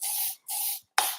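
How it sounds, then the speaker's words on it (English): L'Oreal hairspray hisses onto hair in three short bursts, the first two evenly spaced and the last starting sharply, each close and loud. "if you just spray it on the hair after you've got a bit of a curl in there"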